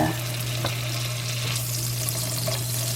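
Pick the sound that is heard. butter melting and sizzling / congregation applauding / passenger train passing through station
butter melting and sizzling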